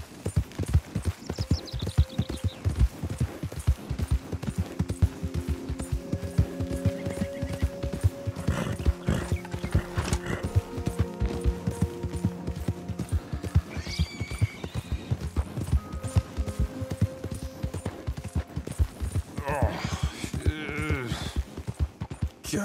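Horse hooves clip-clop steadily through a Red Dead Redemption 2 game scene, with neighs and whinnies and faint game sounds, while no one speaks.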